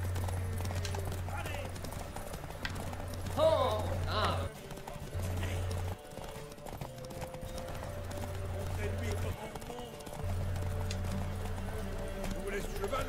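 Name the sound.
horse hooves clip-clopping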